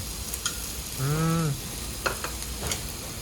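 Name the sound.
Jeju black pork sizzling on a Korean barbecue grill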